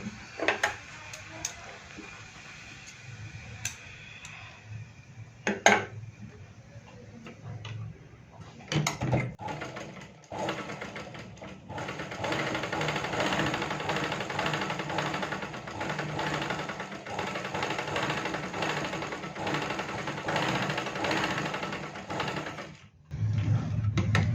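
A sewing machine stitches a blouse, running in a long steady burst after a few shorter starts and stops, with rattling handling noises between runs.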